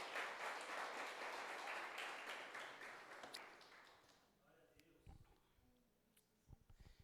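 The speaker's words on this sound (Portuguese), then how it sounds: "Você podia aplaudir o Senhor" A church congregation applauds during a Portuguese-language sermon, the clapping dense at first, then thinning and fading out over several seconds, leaving a few scattered taps and noises.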